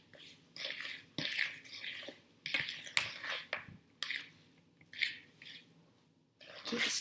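Cake mix cookie dough with white chocolate chips stirred in a bowl: close, repeated squishy, sticky strokes and soft scrapes in uneven bursts with short pauses between them.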